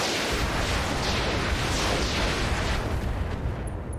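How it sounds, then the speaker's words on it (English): MRM missiles fire in the RogueTech BattleTech game as a loud, continuous roaring barrage of overlapping booms and rumbling blasts that holds for several seconds, with no talking. "we are simply going to fire the MRM"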